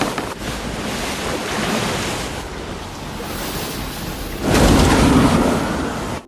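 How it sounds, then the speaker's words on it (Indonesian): Stormy ocean waves surge and crash in a film scene about a man adrift at sea after a plane crash, a dense, continuous roar with wind noise that swells louder near the end. "Chuck kembali harus melewati badai ombak di lautan yang sangat mengerikan"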